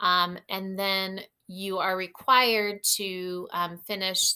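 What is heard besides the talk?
No everyday noises stand out.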